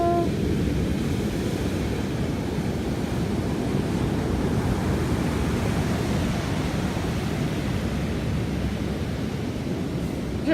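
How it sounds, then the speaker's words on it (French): Big ocean waves crash and roll steadily near a hotel on the Brazilian coast, a continuous loud roar of surf with broadband rushing wash and some wind noise throughout. "il y a des vagues de ouf."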